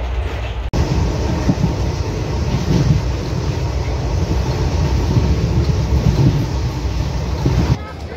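At Phalodi Junction late at night, a train gives off a loud, steady low rumble and mechanical drone heard from on board, with no distinct pauses throughout.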